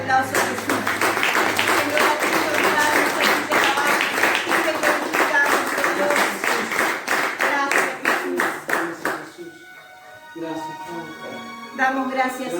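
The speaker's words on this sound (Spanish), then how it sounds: "Vamos a darle un fuerte aplauso a Jesús." A church congregation claps together during a Saturday worship service, a steady dense round of applause under singing and voices that fades near the end, with people talking over it.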